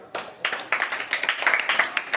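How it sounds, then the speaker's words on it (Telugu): Hand clapping during a classroom-style air-pressure demonstration: a rapid series of sharp, close claps in a steady rhythm, about a dozen strikes over two seconds, with faint voices in the background. "క్లాప్స్ కొట్టు."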